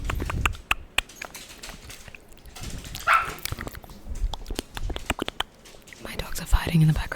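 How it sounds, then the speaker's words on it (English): Dogs scuffle and bark in the background of a room, several short yaps and growls scattered under close, soft whispering speech. "My dogs are fighting in the background"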